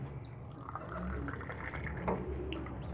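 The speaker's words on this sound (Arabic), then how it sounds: "نحط عليهم المية الاول" Water poured onto Flagyl medicine in a small container, a soft continuous trickle and splash close by with faint drips, no speech.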